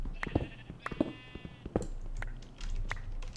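Sheep in Minecraft bleating in a couple of short, close wavering calls among small clicks and game sounds.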